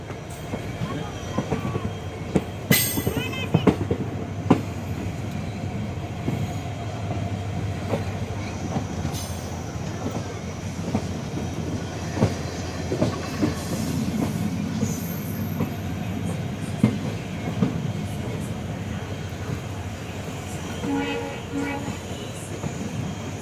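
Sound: Okha-Bhavnagar Terminus Express train running

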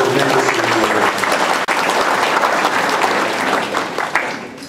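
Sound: audience applause at a press conference

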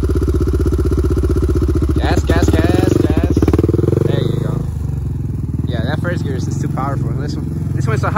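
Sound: motorcycle engine running in first gear

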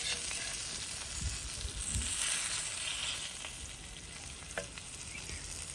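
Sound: stuffed pomfret fish frying on a tawa

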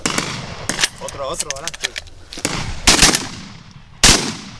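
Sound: shotgun shots at a pigeon and partridge shoot

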